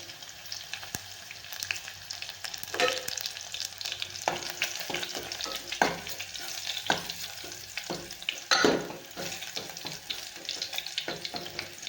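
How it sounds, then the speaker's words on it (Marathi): Red garlic sizzling and frying in hot oil as a tempering for a spiced palak dish, a steady crackling hiss broken by several sharper spatters and stirring scrapes, with nobody talking. "लसूण मस्त छान असा लाल एकदम छान तळून घ्यायचा आहे आपल्याला"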